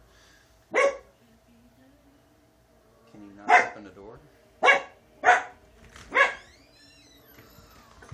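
A dog barks in the room, one bark followed by a run of four after a pause, loud and close, with a person speaking briefly between them.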